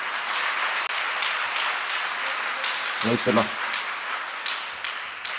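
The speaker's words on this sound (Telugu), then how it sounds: "సంతోషంగా ఉన్న వాళ్ళు ఒకసారి చప్పట్లు కొట్టవచ్చు" A congregation at a church feast for St Antony claps steadily in a dense, continuous patter, with a speaker's voice briefly rising over it midway.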